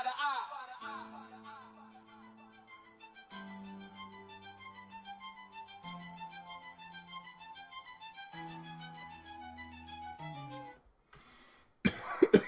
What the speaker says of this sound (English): Walk over, cough in the mic.